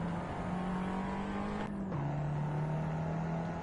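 Abarth 500 EsseEsse Step1 race car in Assetto Corsa at Barcelona, its engine holding a steady drone, then dipping briefly with a gear change before droning on, loud and continuous with no talking.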